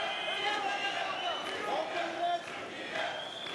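Turkish fans cheer and chant at a Greco-Roman 130 kg wrestling final, a steady roar of crowd voices that holds throughout, with a brief dip in the middle before it swells again.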